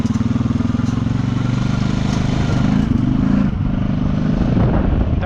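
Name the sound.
four-wheeler ATV riding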